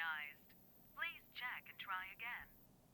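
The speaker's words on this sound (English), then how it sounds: "Quickly, I reach for my phone. I dial her number." A telephone dials a number in a horror video game, giving tonal electronic bursts in a short irregular run over about two seconds, clear and close with no talk.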